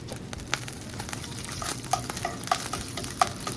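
Butter melting in a frying pan while mixed vegetables wait to be cooked, giving a steady close sizzle and crackle with occasional stirring clinks and scrapes, no talking.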